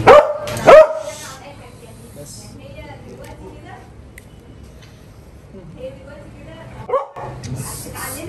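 A dog barks loudly twice in quick succession at the start, then a few fainter yips follow in a quiet room, with people talking at a training event.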